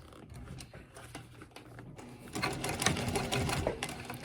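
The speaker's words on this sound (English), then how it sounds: "continue sewing" A sewing machine stitches fabric for a dog treat bag with a rapid mechanical rattle, quiet at first and then speeding up into denser, louder stitching.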